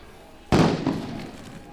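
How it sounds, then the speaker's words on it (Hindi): A single sharp, loud blast in a CISF commando demonstration of a window entry into a metro train, with a broad burst that rolls off into a decaying rumble and some crowd noise. "विंडो एंट्री की तैयारी से आतंकियों का ध्यान भटकाने के लिए जोरदार धमाके"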